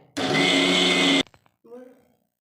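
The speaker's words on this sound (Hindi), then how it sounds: "जब आप मिक्सी चलाएं काजू डाल के" A mixer grinder grinding cashews whirs loudly for about a second, stops abruptly, then a voice briefly speaks.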